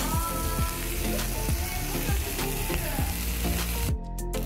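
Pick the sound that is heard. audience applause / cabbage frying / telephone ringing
cabbage frying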